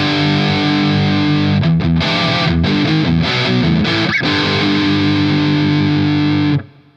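Electric guitar played through a Laney Ironheart Loud Pedal with high gain, thick distorted sustained chords with a burst of choppy palm-muted riffing in the middle, loud and close, ringing out before a sudden stop.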